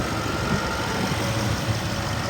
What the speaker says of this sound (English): It idles smooth, it revs up nice.